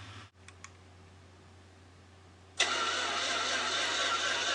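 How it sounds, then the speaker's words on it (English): A car engine cranks without starting, a steady loud starter whir that begins abruptly after a quiet stretch with a couple of faint clicks, and continues to the end. "It'll crank, but it won't start."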